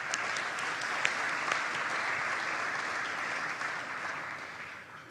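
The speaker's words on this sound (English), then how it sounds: "So can we have maybe a round of applause for all of them?" Steady applause from a large audience at a conference opening ceremony in Ghana, a dense even wash of clapping that holds at a constant level throughout, heard from within the hall.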